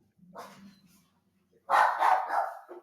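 Indoor dogs give a short low woof, then after a short pause a louder burst of several rapid close barks, with no other sound around them.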